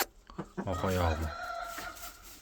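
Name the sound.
rooster crowing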